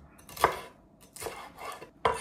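A knife cuts seeded bell peppers into thin strips on a cutting board, making three or four distinct chopping knocks with faint rustling between them and no voices.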